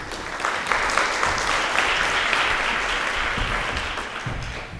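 An audience at a HOFT 2019 conference claps steadily in warm, sustained applause as speaker Ross DeVol is welcomed to the stage, the dense clapping filling the room before easing slightly toward the end.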